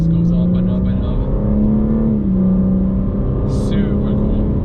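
A 2021 BMW G80 M3 engine revs up under acceleration, its steady droning tone climbing gradually in pitch from inside the cabin, while someone talks throughout.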